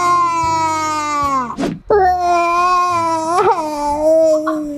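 A person voices a baby doll's crying during play, long wailing sobs with a brief break, imitated by a human voice.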